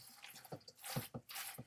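A splash of cooking oil poured into a mixing bowl while preparing mini vegetable frittatas, heard as a short run of wet drips and squishy liquid sounds, close and fairly quiet.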